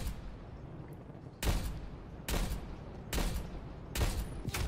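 Sniper rifle fire in Call of Duty, snipers-only play: four loud, sharp shots spaced roughly a second apart, each with a booming tail over low background rumble.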